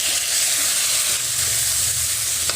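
Chopped sweet potato fries in a pan with a steady, close sizzling hiss that runs throughout at a fairly loud level, with no talking.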